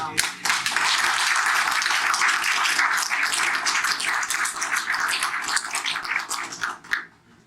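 A meeting audience of Clapham Junction Twin Towers residents applauds in a steady, dense burst of clapping that holds for several seconds before thinning out and stopping.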